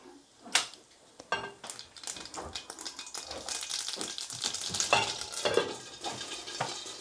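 Mustard seeds sizzle and pop in hot oil in a home kitchen while potato and okra curry is being cooked: a crackling fry that builds steadily, punctuated by clinks and scrapes of a stirring utensil.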